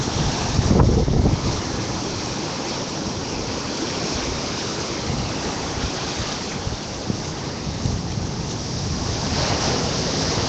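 Ocean surf washes steadily onto a beach as the tide comes in, a continuous broad roar with heavy wind buffeting the microphone and a louder gust near the start.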